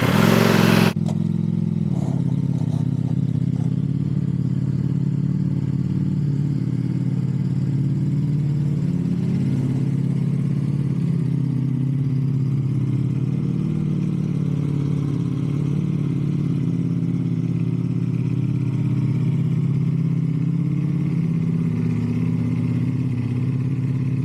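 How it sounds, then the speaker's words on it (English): A motorcycle engine catches after a sharp start and settles into a steady, close idle with light revving, running loud and alone for over twenty seconds. "This bike has brought me the most joy to start it up."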